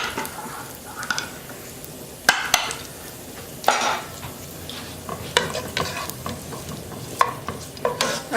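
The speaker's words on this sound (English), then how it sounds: "the garlic cooking in the olive oil" Garlic cooking in olive oil, a close steady sizzle with repeated scraping stirs and utensil knocks against the pan.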